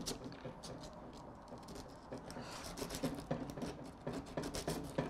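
Sanding along the outer ridges of a Master Airscrew drone propeller gives quiet, close, repeated rasping strokes in an uneven rhythm, growing slightly stronger toward the end.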